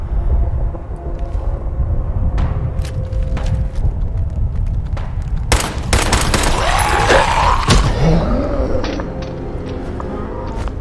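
Gunfire in Fallout with the FROST mod crackles through a rumbling outdoor din, several sharp shots and a dense volley cutting through a loud, steady background.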